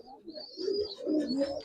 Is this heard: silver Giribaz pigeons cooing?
yes